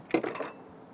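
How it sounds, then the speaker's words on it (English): A 1996 Nissan Maxima motor mount comes loose with a brief metallic clank and a short rattle, close and fairly quiet, fading out within half a second. "And there goes the motor mount."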